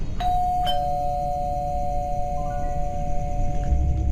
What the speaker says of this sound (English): rang the doorbell for the first time in 2 decades